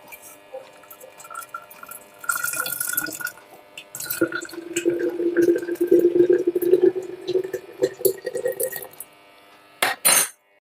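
Homemade tomato juice is poured into glass jars in a kitchen. A steady, close liquid stream gurgles for several seconds, with drips and a brief clink of glass near the end.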